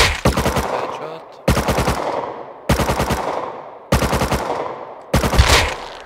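Loud, close bursts of rapid gunfire from the video game Rust come in five evenly spaced volleys, each a quick string of sharp shots separated by short gaps.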